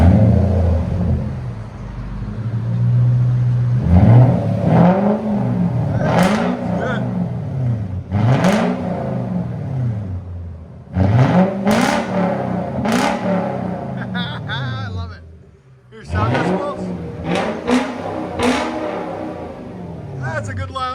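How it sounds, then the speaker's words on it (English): A 2003 Lexus LS 430 with its 4.3L V8 on straight pipes revs repeatedly, loud and close, in sharp bursts that climb and fall over and over, with short pauses and one drop to a lower rumble between runs. "Lexus LS 430 straight pipe."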